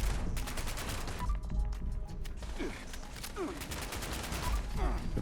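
Continuous rapid gunfire in a shooting video game, dense bursts of shots layered over a busy background mix with no clear pauses, loud and sustained throughout.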